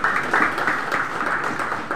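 An audience at a church synod conference applauds in a steady, dense wash of clapping that continues for the whole stretch at a moderate level, with no voices.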